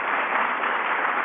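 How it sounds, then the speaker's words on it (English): Applause from an audience at a Federalist Society event honoring its leader, a brief dense wash of clapping, steady and fairly loud, with no voices over it. "Give Gene a round of applause, for heaven's sake"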